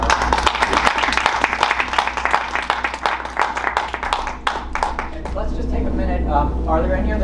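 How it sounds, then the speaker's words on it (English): Dense audience applause at a program honoring Japanese American lawyers, loud and steady, thinning toward the end as voices come up over it. "Let's have a round of applause for our"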